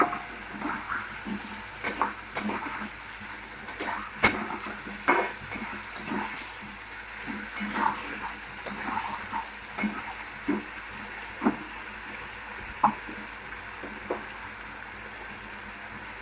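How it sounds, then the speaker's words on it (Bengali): Peas dropped into hot oil in a pan for a cabbage curry, frying with soft crackles and sharp sporadic pops over a low steady sizzle, close and moderately quiet, no talk. "তেলটা ছেড়ে গেছে। এবার দিয়ে দেবো মটরশুঁটিগুলো।"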